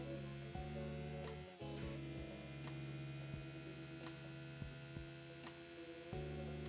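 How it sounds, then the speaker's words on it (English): A quiet, droning car engine in the video game Rocket League hums with steady harmonics, its pitch dropping sharply now and then as though shifting gears. "the engine sound sounds pretty nice"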